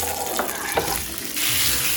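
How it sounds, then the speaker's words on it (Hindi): Potatoes fry in hot oil in a wok, giving a steady, dense sizzling hiss that swells louder about halfway through. "1 टेबल स्पून और ऑयल शामिल कर रही हूँ, और इसमें आलू भी फ्राई कर लेंगे"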